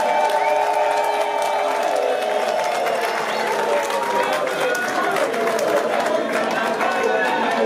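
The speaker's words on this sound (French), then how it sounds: "Sous vos applaudissements, s'il vous plaît." Sustained crowd applause fills the hall at a political investiture ceremony naming a presidential candidate in Congo, dense clapping and cheering voices blending at a steady, loud level.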